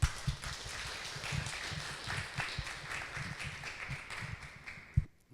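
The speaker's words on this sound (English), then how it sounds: "let's warmly welcome Melati with a round of applause." Audience applause welcoming the artist Melati Suryodarmo to the stage at an artist talk, a steady patter of clapping from a moderate crowd at medium distance, ending in a sharp final clap and sudden quiet.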